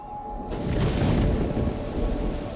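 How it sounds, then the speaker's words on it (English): A violent thunderstorm over Catalonia rolls in as a deep, swelling rumble of thunder over steady rain, loud and close for a couple of seconds, with no voices. "But then Catalonia was hit by violent storms."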